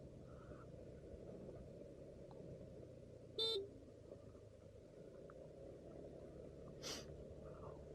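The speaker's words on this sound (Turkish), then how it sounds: "Şuna bir korna çalalım bakalım." Two short Honda Forza 250 scooter horn toots sound at a distance over a low engine hum, a first brief honk followed by a fainter second one a few seconds later.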